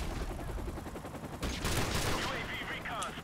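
Gunfire in the Modern Warfare Remastered video game: a continuous run of rapid shots with a sharper, louder burst midway, under dense game noise and effects.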